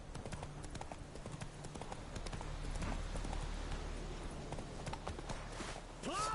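Roach, the horse in The Witcher 3: Wild Hunt, moves at pace with a steady stream of clip-clopping hooves over low ambient game sound. A short neigh-like call rises near the end.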